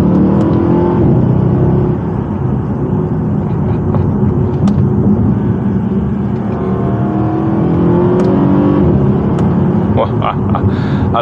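Mercedes CLS63 AMG engine roars steadily from inside the car under hard acceleration, a loud continuous low growl with faint sharp clicks at the upshifts and no talk over it.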